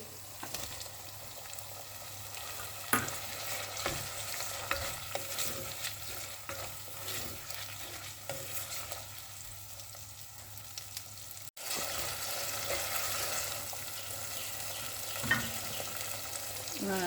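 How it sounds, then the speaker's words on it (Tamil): Masala for chicken satti soru sautéing in a pan, a steady close sizzle and fry with repeated spoon-stirring scrapes and clinks throughout, with no talking. "இது நல்லா வதங்கிட்டோம். இது நல்லா வதக்கிக்குங்க."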